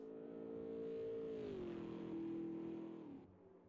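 Camaro race car engine in the Automobilista 2 racing game drones steadily, its pitch holding, then dropping and settling before fading near the end, heard alone without talk.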